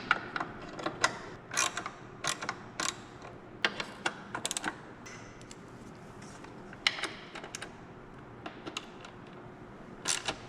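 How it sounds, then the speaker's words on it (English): Ratchet clicking in short bursts as headlight bolts are tightened on a Harley Road Glide, quick sharp ticks repeated irregularly at close range over a quiet hum. "And we'll finish torquing them down."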